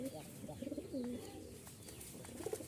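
Domestic pigeons coo near the microphone in soft, repeated throaty phrases with a faint background hum.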